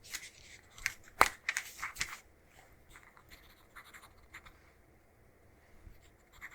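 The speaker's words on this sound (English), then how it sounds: "I'm gonna go ahead and write a couple little notes down." A pen scratches out short notes at close range in a 1940s-style cranial nerve exam roleplay, quiet scribbling strokes in bursts with brief pauses and no talking.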